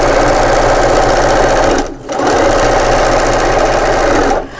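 A sewing machine topstitches a fabric cushion at a long stitch length, its rapid, steady mechanical whirr running loud and close, breaking off briefly near the middle and stopping again just before the end.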